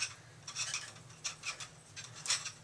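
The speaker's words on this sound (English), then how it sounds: "rotate the filter, pulling the grounds nice and level across, and then I'll just scrape off the excess" A straight edge levels and scrapes espresso grounds across a filter basket on a Bunn ES-1A HX setup, producing soft, faint scratchy rasps in short bursts.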